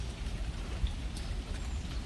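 Rain falling outdoors in North Carolina, a soft, steady patter with no voices, fairly quiet and even throughout.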